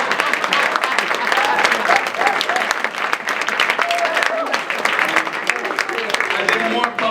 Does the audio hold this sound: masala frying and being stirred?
no